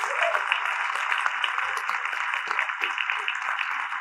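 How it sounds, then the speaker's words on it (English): Audience applause at a convocation ceremony, a continuous, fairly even wash of many hands clapping heard from a distance, steady throughout with no voices over it. "loud round of applause, please."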